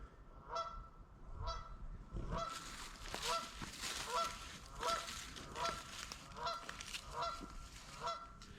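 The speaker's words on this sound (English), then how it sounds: "That Goose is like, you don't kayak in my pond." A goose honks repeatedly at a pond in a nature preserve, its calls coming in uneven bursts at moderate distance over a soft outdoor background, with no talking.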